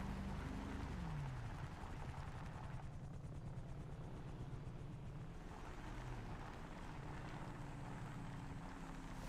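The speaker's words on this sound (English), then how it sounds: "See, I knew I heard a helicopter." A steady, loud rotor drone from a helicopter overhead fills the whole stretch, with wind noise and no talking.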